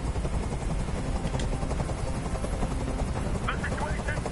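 A helicopter in the video game Detroit: Become Human drones as a steady, loud rotor thrum throughout, with voices talking over it.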